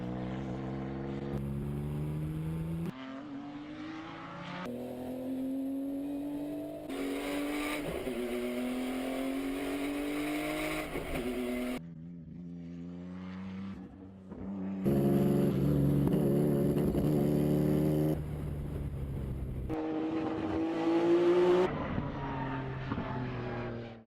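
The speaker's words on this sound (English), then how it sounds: "Just take a listen to this classic Calsonic R32 GTR race car." Classic Calsonic Nissan Skyline R32 GT-R race car engine, loud and close, revving in long rising and falling sweeps with a few brief lulls, continuous throughout with no voices.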